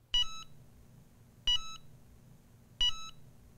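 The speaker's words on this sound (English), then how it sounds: "you'll hear a triple beep" A Cricut EasyPress heat press gives its warning before automatic shut-off: three short, clean electronic beeps, evenly spaced about a second and a half apart, close and quiet in an otherwise silent room.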